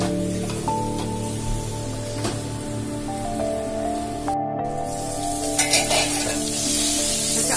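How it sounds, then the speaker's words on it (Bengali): Chicken biryani masala sautés in a pan with a continuous close, bright sizzle, broken by a few stirring scrapes and a brief dropout midway. "এবার মিনিট 15 তাকে কষাতে হবে।"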